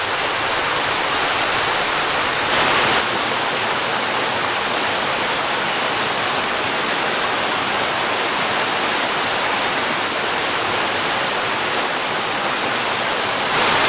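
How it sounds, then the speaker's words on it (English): A forest waterfall on a trail in Worlds End State Park, Pennsylvania, pours with a steady, full rushing roar that holds constant throughout, with no voices. "I didn't realize there's gonna be so many waterfalls on this trail."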